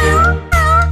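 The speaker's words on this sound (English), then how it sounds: "there was a farmer who had a cat, and Oscar was his name" A cat's meow rings out loud and close within a children's nursery song, two drawn-out tonal calls heard over steady musical accompaniment.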